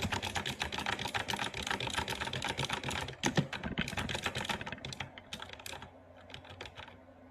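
A keyboard clatters in rapid, dense keystroke bursts that fill most of the stretch, then thin to sparser taps and fade out near the end, with a musical backing underneath and no talking.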